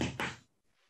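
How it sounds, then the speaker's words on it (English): A sharp knock sounds at a door in a radio horror drama, two quick loud impacts close together followed by a faint fading tail, with no one talking. "we hear a knock at the door."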